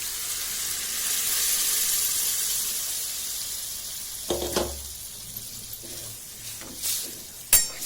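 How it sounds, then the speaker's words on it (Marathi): Cooked dal and brinjal (eggplant) go into hot oil tempering, a steady sizzle that settles as the food hits the pan, followed by a few clinks and stirring knocks close by with no talking. "कुकरमध्ये आपलं डाळ आणि वांग शिजवलेलं असतं ना ते असं घालून द्यायचं"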